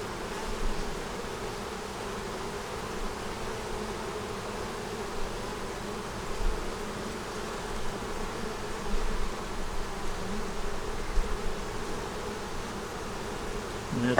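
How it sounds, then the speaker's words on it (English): Honey bees buzz inside an opened hive, a constant soft, dense drone from many insects close by that holds steady throughout with a few small bumps and no voices. "Just a bunch of bees."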